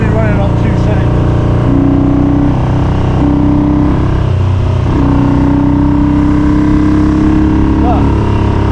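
A Triumph Trident T160 motorcycle running on only two cylinders while riding through the Peak District, a loud, constant engine drone with wind rush and a steady tone that shifts slightly midway.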